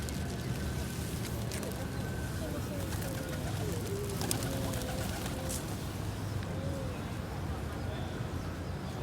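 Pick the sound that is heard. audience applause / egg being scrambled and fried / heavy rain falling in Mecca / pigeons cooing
pigeons cooing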